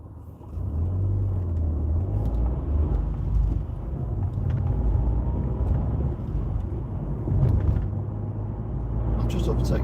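A car driving at night on UK roads between Stalybridge and Wigan, overtaking two cars, gives a steady, loud engine and road rumble with wind noise that swells slightly mid-pass.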